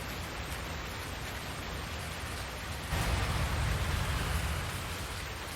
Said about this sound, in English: See, I hear rain sounds now.